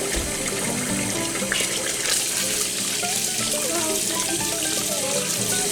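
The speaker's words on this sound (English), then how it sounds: "I'm gonna start out by washing all of our tomatoes very good." Tap water runs steadily while tomatoes are washed under it, with a constant splashing hiss and a few small clinks.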